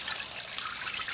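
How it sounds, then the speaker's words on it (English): Water drains out of a vegetable-washing tub after the plug is pulled, running onto carpet laid over a garden worm farm as a soft, steady, close trickle with no talking. "the water drains onto the carpet that I have here as the light protection and filtration for the worm farm"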